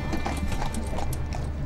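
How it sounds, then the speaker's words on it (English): Horse cart hooves clip-clopping on a city street in Sofia, Bulgaria, a loud, steady trotting rhythm of brisk hoof beats heard close by without talk. "Horse carts instead of cars."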